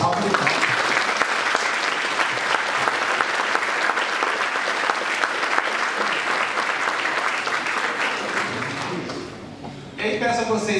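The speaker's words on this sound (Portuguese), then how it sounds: "Então eu peço uma salva de palmas." Audience applause at a tech meetup, steady dense clapping from a roomful of people that holds loud for about nine seconds, then thins and fades near the end with a voice starting up.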